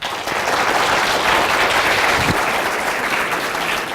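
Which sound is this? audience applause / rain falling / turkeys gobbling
audience applause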